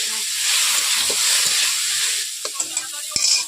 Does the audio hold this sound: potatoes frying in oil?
yes